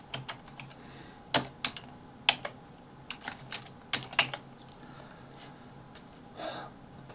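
Keys tapped on a computer keyboard while entering spreadsheet cells, including the tab key, in an irregular series of close, crisp clicks separated by short pauses, with soft breathing in the background.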